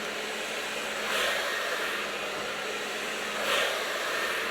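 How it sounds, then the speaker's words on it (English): A hair dryer blows steadily while drying long hair at close range, its even whoosh swelling slightly twice as the airflow shifts. "I'm going to dry the shaft, the ends around, and I'm going to flip those upwards"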